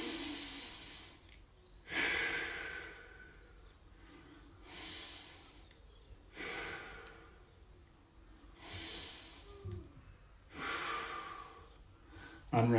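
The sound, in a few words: conscious deep breaths during a workout stretch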